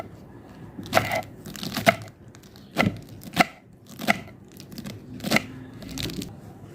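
A knife chops finely through fresh spinach on a cutting board in a village kitchen, giving a run of close, crisp thuds and leafy crunches in an uneven rhythm with short pauses between strokes.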